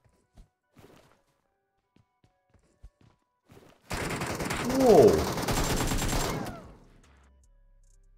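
Gunfire in PUBG Mobile Metro Royale: after scattered quiet clicks, a loud, dense burst of rapid automatic shots lasts a couple of seconds and then cuts off, with a short exclamation from a voice.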